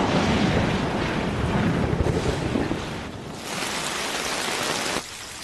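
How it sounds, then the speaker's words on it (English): Layered rain sound design for a Studio Ghibli scene: textured rain patter on umbrellas mixed with broad ambient rain, a dense loud wash that shifts in intensity and drops off abruptly near the end. "I got a lot of different textures for rain to kind of emphasize the umbrellas, mixed with some more ambient kind of rain as well, and environmental rain"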